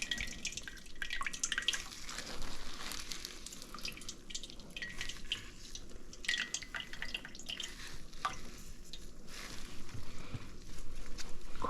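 Liquid dripping and trickling from squeezed eggplant in a kitchen, a continuous wet patter and splash with faint handling noise, fairly close and uninterrupted by talk.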